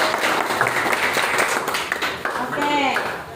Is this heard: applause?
yes